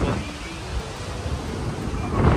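Steady wind at Bournemouth Beach buffets the microphone with a broad, rushing roar that swells slightly toward the end, with no clear voices.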